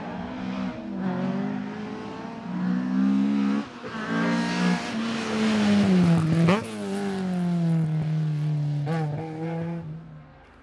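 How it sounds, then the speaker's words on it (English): A historic Opel Manta rally car climbs over the Moll's Gap mountain pass at the 2019 Killarney Historic Rally, its engine revving hard and dropping through gear changes, loud and close with brief lifts between pulls. "their iconic Opel Manta, shimmying its way over Moll's Gap"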